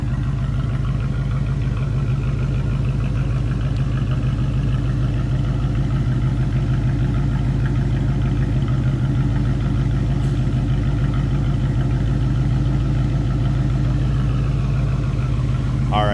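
A 1983 Oldsmobile Cutlass Hurst/Olds engine runs steadily at idle, a continuous low rumble heard from the rear of the car with a faint clattering edge throughout.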